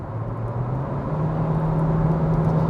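A Hyundai i20 1.4 MPI with a 6-speed automatic accelerates from the cabin, its engine hum steady then rising slightly in pitch, with a soft road and wind rush underneath and no talking.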